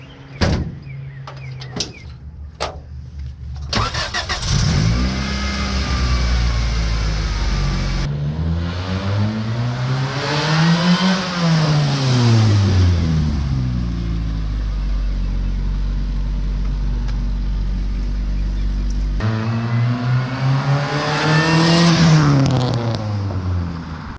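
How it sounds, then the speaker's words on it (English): A supercharged Honda Civic with a D16Y7 engine has its hood shut with a few sharp thumps, then cranks and starts, idles loudly, and revs through rising and falling pitches as it pulls away close by. "I'm gonna go ahead and shut his hood and he'll start it up and go down the street"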